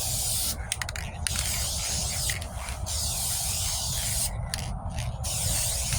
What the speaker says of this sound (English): So make sure when you're spraying, or when you start spraying, start when you're off the panel